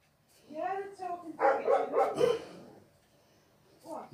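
Dogs trade barks and yips with each other, a run of pitched, whining calls followed by a cluster of louder barks, then a brief yelp at the end, fairly close.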